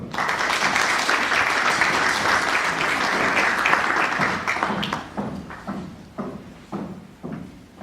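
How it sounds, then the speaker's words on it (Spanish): Strong applause fills an academic congress hall for a sociologist being introduced, a dense wash of clapping that thins out to a few scattered, separate claps before fading. "Vaya para ello, un fuerte aplauso."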